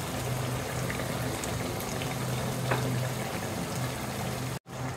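Tomatoes go into a pan of rohu fish-head and bottle gourd curry, the oil giving a steady, close sizzle and bubbling that holds evenly before cutting out briefly near the end.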